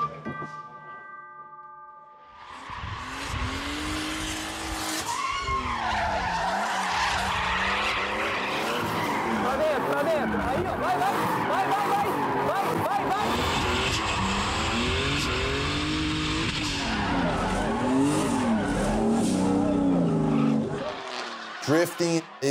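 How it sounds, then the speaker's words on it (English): A drifting car roars close and loud with continuous skidding tire squeal, its engine pitch swooping up and down through slides for about twenty seconds. The clip opens with a brief rise from a quieter start. "Drifting is basically trying to control your car when it's out of control."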